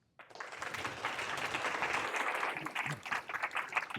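Sustained crowd applause at a city mayoral debate forum, with dense clapping that starts abruptly and holds steady at a fairly loud level throughout.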